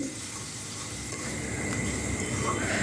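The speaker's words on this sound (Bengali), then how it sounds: "তো এবার মশলার মধ্যে শুটকিগুলো দিয়ে দিচ্ছি। এবার ভালো করে কষিয়ে নিচ্ছি।" Dried fish being sautéed in a spice paste in a pan, a steady, dense sizzle with a faint bubbling, wet texture, close and continuous throughout, no talking.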